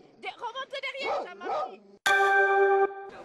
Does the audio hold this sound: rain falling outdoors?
no